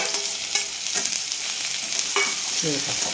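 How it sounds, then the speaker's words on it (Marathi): Chopped onion sautés in oil in a kadai, a steady loud sizzle with occasional scraping stirs of a spatula against the pan, close and without talk. "आता छान असा कांदा परतून घेते"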